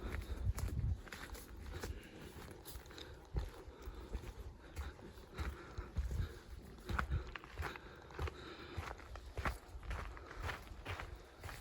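Footsteps of a hiker walking a mountain trail on Dobongsan toward Obong peak, a steady rhythm of soft crunching steps close to the microphone, with faint outdoor ambience and no talking.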